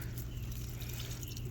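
Liquid fertilizer soil drench poured at the root of a squash plant in a garden bed, a steady low trickle and splash of liquid onto soil, close and fairly quiet, with no talking.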